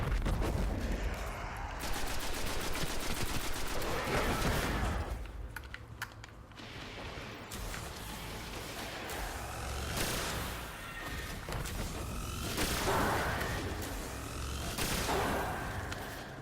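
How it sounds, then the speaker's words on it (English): Fusion rifle fire in the video game Destiny, as rapid, dense bursts of energy-weapon shots that roll on almost continuously, loud and harsh, with brief dips between volleys. "making use of this fusion rifle"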